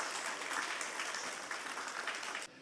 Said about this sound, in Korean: 두 형님께 박수 한 번 더 쳐주십시오.